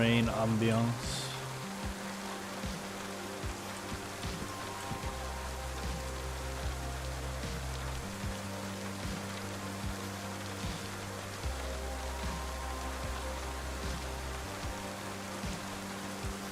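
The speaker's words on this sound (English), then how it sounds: "Little rain ambiance." Light rain falling in a steady soft patter, continuous throughout, with low droning tones running underneath.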